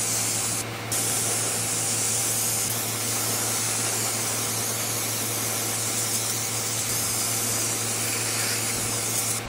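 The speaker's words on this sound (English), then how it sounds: "Now I'm gonna brake clean them." Aerosol brake cleaner sprays in one steady, loud hiss onto engine throttle linkage parts of a Ford F100 with Holley Sniper EFI, running almost without a break for about nine seconds, with no talking.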